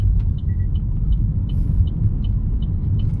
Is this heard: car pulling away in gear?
yes